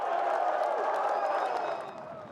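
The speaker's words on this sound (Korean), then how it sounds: "타이거 우즈의 긴 퍼팅이 들어가자 구름 갤러리들이 환호합니다" A large golf gallery crowd cheers and applauds after Tiger Woods sinks a long putt, a broad roar of voices and clapping that fades toward the end.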